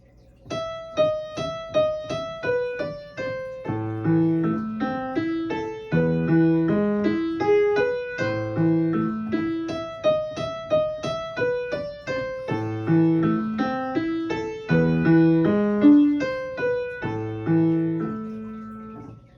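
Solo piano playing Beethoven's "Für Elise," melody with flowing arpeggiated accompaniment at a moderate gentle pace, clear and close, no voices.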